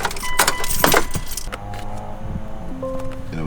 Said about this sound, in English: turn the car on really quick.